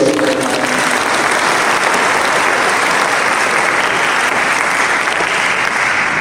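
Students and staff at a high school Christmas Mass and celebration fill the room with loud, sustained applause, a dense steady roar of many hands with no break.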